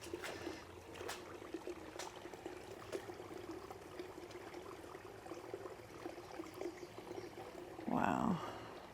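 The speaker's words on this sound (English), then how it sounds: "Water just still flowing." Water flows steadily through a flooded garden, a faint continuous trickle and wash heard from close by, with a brief louder splash near the end.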